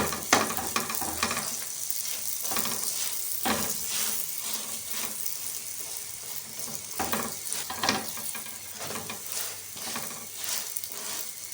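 Lachha paratha fries in a pan with a steady hiss of sizzling oil, broken by repeated sharper bursts of crackling as the flatbread is moved or pressed, close and moderately loud.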